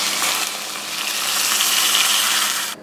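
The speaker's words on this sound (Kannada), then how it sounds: "ಇಷ್ಟಾದಮೇಲೆ ನೀರು ಕುದ್ಮೇಲೆ ಅದನ್ನು ಹಾಕಿ" Boiling water poured into a pan of frying onions and curry leaves for wheat rava upma, a loud rushing hiss and sizzle that swells steadily, then cuts off abruptly.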